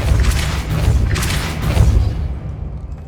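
A Depulso spell cast in the Hogwarts Legacy video game, a few heavy booming thumps with bursts of swirling noise, loud and near, fading into quieter rumble at the end.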